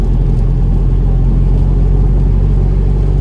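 A Volkswagen Golf's engine drones loud and steady from inside the car as the automatic gearbox drops a gear, a low continuous rumble with a slight swell in revs.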